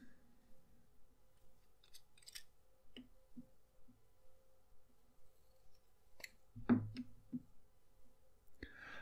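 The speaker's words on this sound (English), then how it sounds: "Let me take the caps off." Narwhal fountain pen caps being pulled off, a few faint small clicks and a sharper snap near the end, quiet and close, with no talking.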